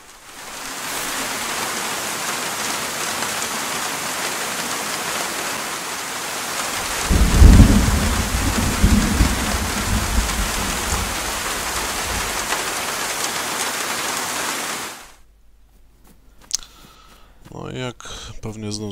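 A video game thunderstorm with heavy rain hisses in a dense, steady roar, broken midway by a deep rumbling thunder roll. The rain then stops abruptly and a voice speaks over quieter sound.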